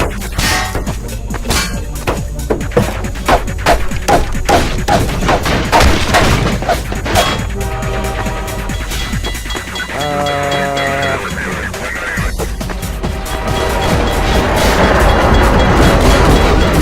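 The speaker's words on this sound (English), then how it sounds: "you can probably hear it, but people are shooting" Bursts of rapid gunfire ring out in the Half-Life 2 video game, loud and continuous across the whole stretch, mixed with game music and effects and no talking.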